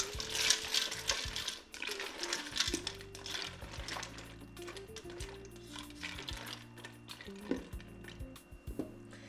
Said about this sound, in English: Now we're gonna give it a little stir.